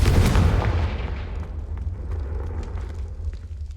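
A Confringo fire spell blast in Hogwarts Legacy: a heavy, booming explosion bursts loud at the start and then decays into a rumbling, crackling tail, with no talk over it.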